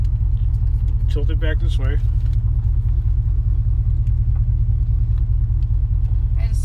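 A steady low car engine rumble idles continuously under a learner driver's slow first drive, close and even throughout, with brief talking from a passenger over it.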